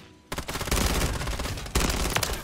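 Rapid automatic gunfire from a Holger gun in a multiplayer shooter video game, dense sustained bursts that cut in after a brief quiet moment, briefly break off, then resume loudly.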